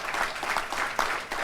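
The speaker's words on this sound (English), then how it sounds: "I want to give Keith and Carl and Crystal and Adriano a big round of applause" Audience applause at a Harlem African American Day breakfast, a short, even burst of clapping from a room of people, moderately loud and without speech.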